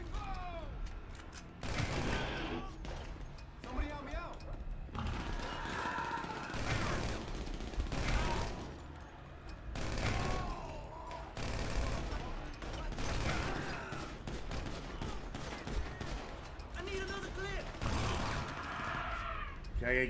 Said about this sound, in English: I'm just shooting blind